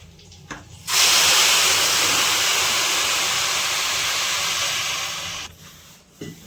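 Water is poured into a pot of pilaf as it cooks, making a loud, steady rushing hiss that starts suddenly, holds for several seconds and then cuts off.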